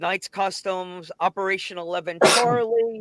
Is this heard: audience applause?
no